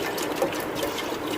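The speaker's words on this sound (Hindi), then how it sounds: "अब इसमें हमने 1 प्याली और डालना है पानी में।" A cup of water is poured into a strained yogurt and gram flour (besan) mixture for kadhi, making a steady, close liquid pour and trickle that lasts throughout without a break.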